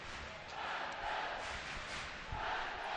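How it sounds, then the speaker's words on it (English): Crowd noise at an ice hockey game between the Nottingham Panthers and Coventry Blaze, a broad, steady roar of fans rising and swelling in waves throughout, fairly distant and diffuse. "Crowd getting into this one now."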